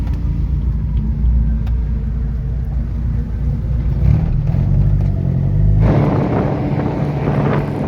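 Race cars in a Clubman's race at Killarney circuit approach on track, a steady loud engine rumble building, with a brighter, harsher roar surging in near the end as the cars draw close; no talk.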